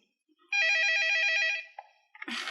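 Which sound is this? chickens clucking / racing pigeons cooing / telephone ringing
telephone ringing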